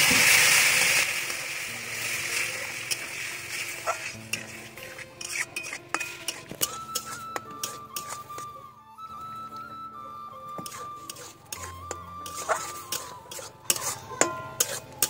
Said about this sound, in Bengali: সুজিটা ভালোভাবে নাড়তে হবে, না হলে দলা পেকে যাবে।